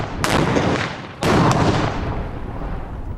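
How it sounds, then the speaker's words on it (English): A test bomb goes off in two loud, close blasts a second apart, each bursting sharply and then rumbling as it slowly fades. "They create an explosion"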